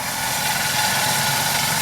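A Boomer 54D tractor runs a brush mulcher, giving a steady, close engine drone with a constant mechanical hum and no talk.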